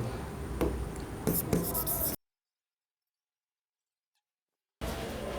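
Marker writing on a board during an accounting lesson, soft scratchy strokes in short bursts, then a stretch of dead silence before the writing sounds resume.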